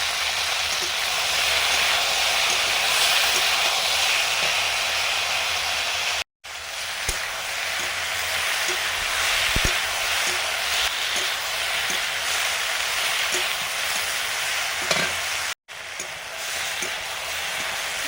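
Okra with green chilies fries in a pan, giving a soft, steady sizzle with faint crackles that stays quiet and continuous, broken by two brief silent gaps.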